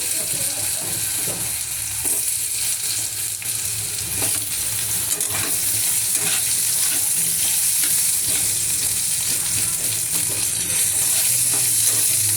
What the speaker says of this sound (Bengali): দিয়ে দিলাম কটা আলু, এই জিরে আর শুকনো লঙ্কা